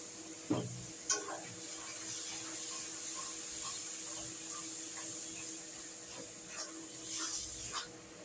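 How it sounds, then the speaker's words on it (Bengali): Onion for potol dolma is stirred and fried in a pan: a quiet, steady sizzle runs throughout, with a few soft spoon scrapes and knocks near the start and end. "পেঁয়াজটা একটু নাড়াচাড়া করে নিয়েছি"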